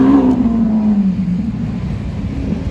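A blue full-carbon Bugatti Veyron Super Sport on a Paris street gives a loud, close engine roar, a low droning tone that sags slightly then holds steady for a few seconds with no talking over it.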